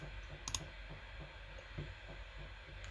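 Sparse, quiet computer mouse clicks come while someone works in Fusion 360 3D modelling software, with a sharp double click early on and a few softer single clicks spread out over a low background hum.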